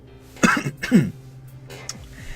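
A man coughs and clears his throat close to a microphone, two harsh bursts in quick succession followed by a fainter throat sound.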